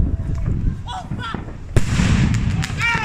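Fireworks bursting during a Fourth of July celebration, with sharp booms and crackles followed by a denser volley of explosions midway through. Excited voices whoop and shout over the blasts.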